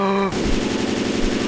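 Automatic gunfire in a zombie video game erupts after a short tonal sound, a loud rapid rattle of shots continuing close and steady to the end.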